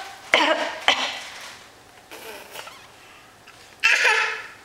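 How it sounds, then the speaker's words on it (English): A 10-month-old baby girl coughs a few times: two quick coughs close together, a pause with faint background noise, then one more cough. "Can you cough for the camera?"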